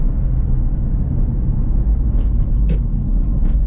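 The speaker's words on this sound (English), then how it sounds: "So right now I'm downshifting because we're slowing down." Acura RSX engine with roughly 250,000 miles, heard from inside the car as it downshifts to slow down: a steady low drone with light rumble and a few faint brief higher notes near the end.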